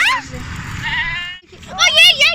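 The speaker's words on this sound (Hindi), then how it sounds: "देखिए आप सामने बकरा, देखिए आप कितना डरावना लग रहा है।" A male goat bleats loudly and close up in two drawn-out, wavering calls separated by a brief gap.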